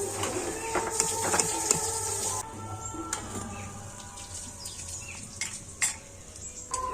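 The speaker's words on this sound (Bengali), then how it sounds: "তো এই টিফিনগুলোকে উল্টে পাল্টে খুব সুন্দর করে ভেজে নেব" Bread snacks fry in hot oil with a continuous crackling sizzle, broken by clinks and scrapes as pieces are turned in the pan.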